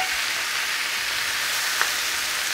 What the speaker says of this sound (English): we're gonna take our green beans and our onions that we sauteed and our smoked sausage and dump them all back in there